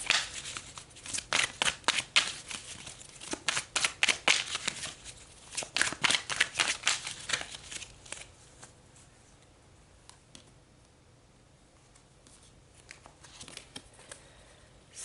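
Tarot cards are shuffled and drawn by hand, a brisk papery riffling and flicking that is close and fairly loud for several seconds, then fades to occasional soft card handling.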